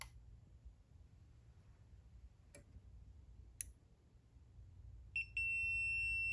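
Continuity tester on the wiring of a 1954 Kaiser Darrin sounding a sudden steady electronic tone near the end after a few faint clicks, close and clear over a quiet hum.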